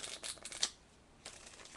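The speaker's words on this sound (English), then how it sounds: "the first thing you want to do is shuffle them up a few times." Japanese hiragana and katakana paper flashcards are shuffled by hand, giving two short bursts of quiet papery riffling and crisp flicks separated by a brief pause.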